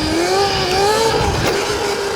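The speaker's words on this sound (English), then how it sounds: "let's try and hit the speed bump while up in a wheelie" A stock RC car fitted with ETM RTR reservoir rear shocks motors along up on its rear wheels in a wheelie, its electric whine rising and falling steadily at close range without any talk.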